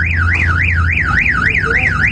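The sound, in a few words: car alarm going off in the pits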